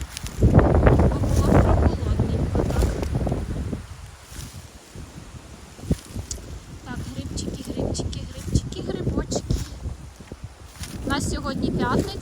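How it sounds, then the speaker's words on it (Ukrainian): Gusty wind buffets the microphone in loud rumbling bursts, with a person talking intermittently through it. "І вітер такий прям задуває."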